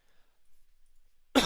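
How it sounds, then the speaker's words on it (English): Near silence gives way to one abrupt, loud cough close to the microphone at the very end. "Apologies, I need to cough."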